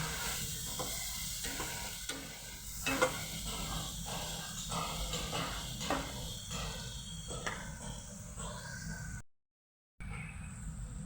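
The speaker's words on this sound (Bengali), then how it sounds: "মশলাটাকে এবার খুব সুন্দরভাবে কষাবো সময় নিয়ে" Spice paste for a mushroom curry frying in a pan, with a continuous close sizzle and repeated rhythmic stirring scrapes of a spoon, cut by a short silent gap near the end.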